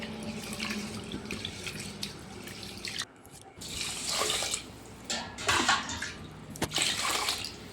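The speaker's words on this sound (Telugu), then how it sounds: "క్లీన్గా కడుక్కోవాలి రైస్ని మొత్తం" Basmati rice is being washed in a sink under running water, with gushing tap flow, splashing and dripping, a brief pause, then renewed sloshing as the grains are swirled.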